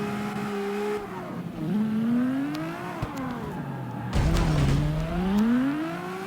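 A 32R car drifting in the video game CarX Street gives a loud engine that climbs and falls in pitch as it revs, with a harsh tire squeal near the end.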